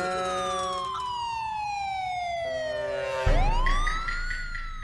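An ambulance siren wails with steady falling and rising sweeps, growing louder as it passes close, with road rumble underneath.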